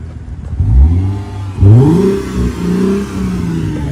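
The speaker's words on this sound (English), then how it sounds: "Why, Mercedes, did you put like 5 different mufflers on this car to make it sound so quiet?" A car engine revs up twice through the exhaust, deep and loud close by, then settles into a rumbling idle.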